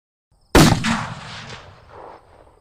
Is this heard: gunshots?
yes